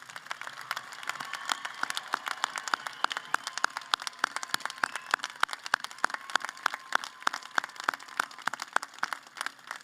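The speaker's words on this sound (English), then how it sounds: "invite everyone here to give another round of applause to these special men and women for their service and their academic accomplishments" A large crowd applauds at a college graduation ceremony on the main campus, dense sustained clapping with sharp individual claps standing out, steady and loud throughout.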